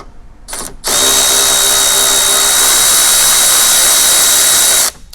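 A power tool unbolting 10 millimetre bolts on a car's windshield washer system, one loud steady whirring run of about four seconds after a brief short burst.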